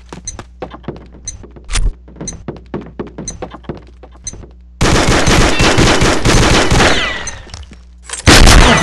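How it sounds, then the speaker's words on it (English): Video game gunfire including a shotgun in a competitive shooter match, starting as a run of sharp separate shots and then swelling into dense, loud continuous firing with heavy bursts near the end. "When I shoot them with a shotgun, they don't even die."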